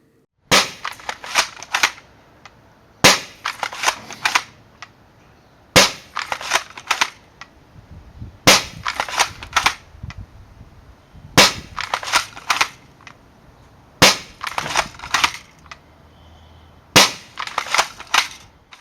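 A Worker Prophecy Nerf blaster with a brass breech fires Worker Gen 2 darts in seven evenly spaced loud, sharp cracks, each shot followed by a short rattling clatter of the mechanism, with near silence between them.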